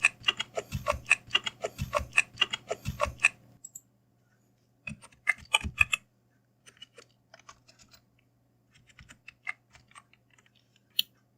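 A name being typed on a computer keyboard, heard as rapid bursts of close, crisp key clicks that pause and resume in sparser taps toward the end, with no voices.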